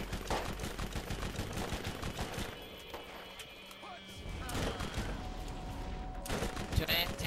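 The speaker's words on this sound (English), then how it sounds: "How long have we been shooting at this thing?" Sustained rapid gunfire and bursts in a Borderlands co-op boss fight, loud and continuous throughout with a brief lull midway, with voices talking over the shooting.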